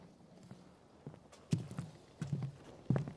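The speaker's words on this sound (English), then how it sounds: "you begin to hear footsteps, 2 pairs, coming down the hallway where your room is" Footsteps of two people coming down a hallway, a handful of irregular hard thuds growing louder as they approach, nearby in a quiet interior.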